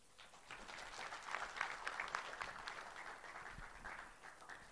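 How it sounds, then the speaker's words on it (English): Audience applause fills a workshop room on business proposals, a steady wash of clapping at moderate volume that builds and then holds without clear voices. "that round of applause was uncalled and uninvited"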